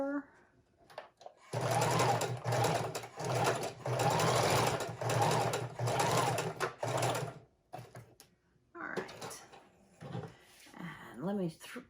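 A sewing machine runs a zigzag stitch attaching pockets to junk journal pages, a close, steady mechanical whir lasting several seconds before stopping, with a voice talking before and after the run.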